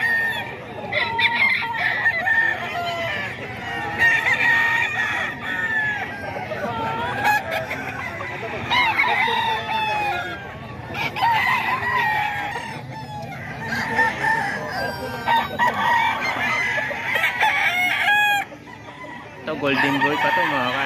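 Roosters crow repeatedly amid steady clucking from many chickens at a rooster sale in Bocaue, a dense, continuous barnyard chorus with crows rising every few seconds, close and loud throughout.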